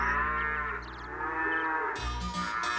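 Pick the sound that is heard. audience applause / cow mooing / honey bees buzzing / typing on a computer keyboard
cow mooing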